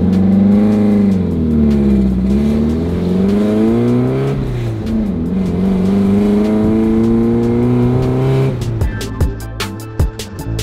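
A wide-body Mercedes engine revs hard on the road, rising and falling through several long pulls with loud, harmonic drone, then a few sharp pops and bangs near the end; no one speaks.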